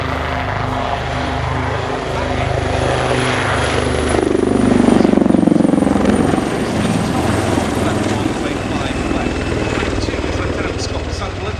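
Royal Navy Wildcat HMA.2 helicopter performing a flying display at an air show, its rotor and turbine roar loud and steady throughout, swelling briefly as it passes closest, with crowd noise and a commentator's voice beneath.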